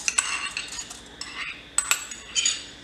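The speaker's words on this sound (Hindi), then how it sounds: "अब प्रेशर कुकर के अंदर अपने ये आधी कटोरी चावल डाल लेंगे।" Soaked rice is tipped into a pressure cooker from a small bowl, giving a series of close metallic clinks and light scraping rattles of grains against the steel, in uneven bursts.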